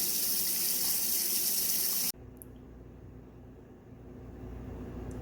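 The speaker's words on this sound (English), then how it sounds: "I'm going to fill it up with cold water." Cold tap water gushes steadily into a sink, then abruptly softens to a quieter, rising trickle as the basin fills.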